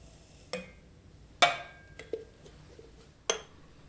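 Coffee grounds are stirred in a glass French press, with a few faint, sparse clinks and taps of the utensil against the glass, separated by near silence.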